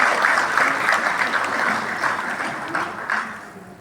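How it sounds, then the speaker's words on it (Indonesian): Audience applause at a large expo event, a short dense burst of clapping that slowly softens. "Tepuk tangan dulu buat semua."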